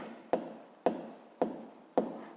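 Pen strokes on paper during a physics exercise, four short scratchy marks at an even pace, close and quiet.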